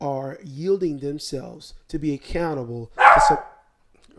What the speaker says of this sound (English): That was my dog barking at the door.